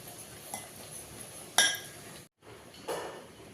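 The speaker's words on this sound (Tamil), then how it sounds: "இது கட்டி இல்லாமல் நல்லா கலக்கலாம்" Water and a pinch of salt mixed in a bowl, with a few brief clinks and scrapes of a utensil against the bowl, one sharper knock, then a short pause and a softer swish.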